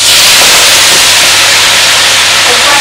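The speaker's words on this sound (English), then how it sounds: "we're going to put a little bit of olive oil in our pot so that we can saute the spinach and the green onions" Spinach sizzling in hot olive oil in a pot, a loud, steady hiss of frying that fills the whole clip without a break.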